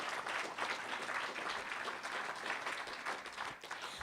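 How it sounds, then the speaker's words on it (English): Audience applause for graduating families at a dental hygiene pinning ceremony, a steady dense wash of clapping from a crowd that holds for about four seconds before thinning slightly at the end. "So let's give them a wonderful applaud."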